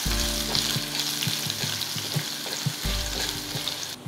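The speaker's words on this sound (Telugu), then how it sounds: "ఎండుమిర్చి వేగిన తర్వాత 4-5 వెల్లుల్లిపాయలని కచ్చాపెచ్చగా దంచుకొని వేసుకోవాలి." Dried red chillies and coarsely crushed garlic frying in hot oil in a pan, a loud continuous close sizzle broken by regular stirring scrapes, with no talking.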